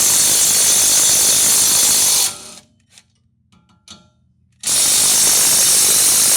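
Power ratchet on a 2003-08 Toyota Corolla Type-S rear wheel bearing hub, loud buzzing rattling bursts removing the 12mm bolts, broken by a short quieter pause with faint clicks before the rattle resumes.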